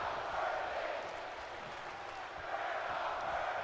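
Crowd in a wrestling arena in the video game WWE 2K24 roars and cheers steadily, a broad, loud wash of distant voices with no breaks.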